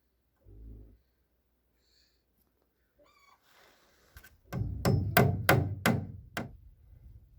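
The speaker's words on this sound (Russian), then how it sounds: "здесь мы проколачиваем по 2 гвоздя, раз, два, и в каждый брусок по 2 гвоздя" Nails being hammered into wooden boards while fitting sauna cladding: a burst of five or six loud, sharp strikes in quick succession near the end, preceded by a few faint knocks and quiet rustling.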